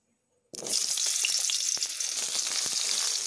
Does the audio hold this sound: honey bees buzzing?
no